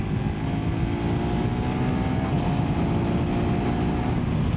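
A KTM Adventure 390 R motorcycle engine drones steadily as it climbs a moderate uphill slope, a loud, continuous low hum with wind rush and no speech.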